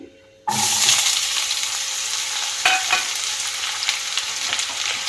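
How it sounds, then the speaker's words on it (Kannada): Onions dropped into hot oil set off a loud, steady sizzle that starts abruptly and continues close up, with a few stirring scrapes and no talk. "ಈಗ ಆಯಿಲ್ ಬಿಸಿಯಾಗಿದೆ ನಾನು ಈರುಳ್ಳಿ ಹಾಕ್ತಾ ಇದ್ದೀನಿ"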